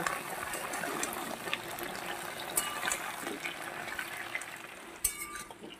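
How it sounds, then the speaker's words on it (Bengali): Potatoes and pointed gourd fry in a pan, giving a moderate steady sizzle with scattered stirring scrapes and a sharp utensil clink near the end. "আর একটু আমি আলু পটলটা ভেজে নেব"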